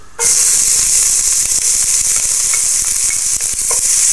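Chopped onion sizzles loudly and steadily in a little hot oil in a pot, with scattered clicks and scrapes of stirring throughout.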